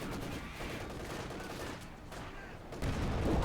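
Maxim machine gun fire in Company of Heroes 2, heard as quiet, rapid bursts set among other distant gunfire and battlefield din, fairly faint and continuous.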